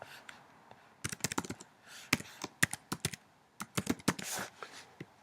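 Keys clatter on a computer keyboard as a name is entered into an online application form, with close, crisp clicks in uneven bursts of fast typing separated by short pauses.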